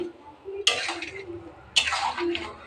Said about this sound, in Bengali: মাছ কটা ঢেলে দেবো